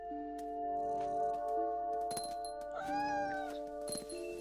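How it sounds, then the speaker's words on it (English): An angry cat in the video game What Remains of Edith Finch meows and caterwauls loudly, with several drawn-out, rising and falling yowls over a steady background tone of game music. "Wow, this is an angry cat."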